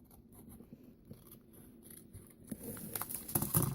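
Quiet snipping and rustling of scissors cutting paper, soft at first and growing louder and busier toward the end.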